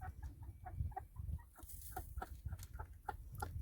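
Backyard hens cluck repeatedly in short, close bursts, a lively run of clucks and squawks from a small flock with low rustling underneath.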